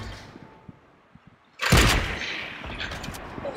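Fortnite gunfire erupts as a sudden loud burst after a stretch of quiet game ambience with faint ticks, then holds a rough, sustained crackling roar that slowly eases off.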